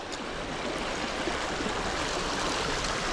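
Small, low-water creek flowing in a quiet watershed, a steady close rushing babble with no voices over it.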